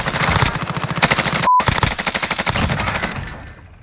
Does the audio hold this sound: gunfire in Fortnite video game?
yes